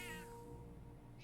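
A cat meows once, briefly and clearly, in the video game Metaphor: ReFantazio, over a steady, low in-game background hum.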